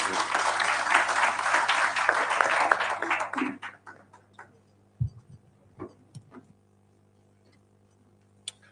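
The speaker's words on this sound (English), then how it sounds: "Another round of applause for the Honorable Paoli Omondi." Audience applause at a political report launch event, loud dense clapping for about three seconds that quickly dies away, leaving a few scattered claps and faint ticking noises.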